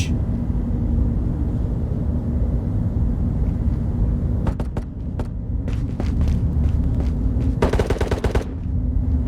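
Gunfire in the video game Ghost of Tabor, a steady low rumble of ambience with rapid bursts of automatic shots, one short volley midway and a longer, denser burst near the end, moderately distant.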